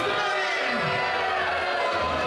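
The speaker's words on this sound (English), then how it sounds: "The crowd going wild for Steve." Crowd at a wrestling show cheering and roaring nonstop, a wall of loud, continuous noise with voices shouting inside it.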